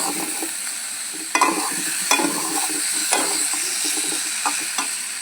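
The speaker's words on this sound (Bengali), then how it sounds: "এবার ভালো করে আমি কষে নেব।" Tomato and ginger paste masala is stir-fried in a pan for vegetarian aloo dum, a loud, near sizzle with sharp spatula scrapes and knocks every second or so, and no speech.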